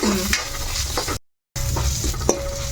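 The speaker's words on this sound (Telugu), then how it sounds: "చక్కగా మీడియంలో పెట్టుకుని జాయిగా అన్నీ వేయించుకోవాలి దోరగా" Chillies and spices frying in oil over medium heat for a coriander-ginger chutney, a steady close sizzle with stirring scrapes, broken by a brief silent gap before the frying resumes.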